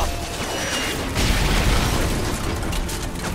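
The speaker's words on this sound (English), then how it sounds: "If it moves, put a mortar shell on it." Mortar shells fire and explode in the Call of Duty Modern Warfare 3 video game, a loud, dense roar of booming blasts and rumbling debris that swells midway and stays heavy throughout.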